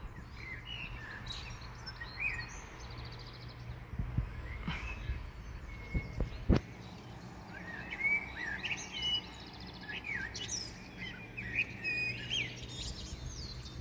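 Outdoors under a thundery sky, a blackbird repeats high, thin squeaking calls in irregular bursts, with one sharp close knock partway through over a low background rumble.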